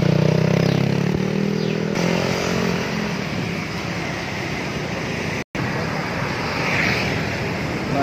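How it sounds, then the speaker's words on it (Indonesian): A Yamaha NMAX scooter on a test ride after an air filter change, a continuous rushing engine and road drone with heavy wind noise, broken by one brief dropout. "Nah ini motornya udah putar balik nih"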